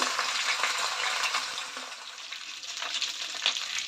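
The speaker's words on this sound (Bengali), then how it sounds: "এই মাছটাকে একটু খড় খড় করে ভেজে নেবো" Large fish heads frying in hot oil, a dense continuous crackling sizzle heard close, with occasional louder pops and spatters throughout.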